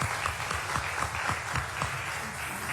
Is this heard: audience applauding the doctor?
yes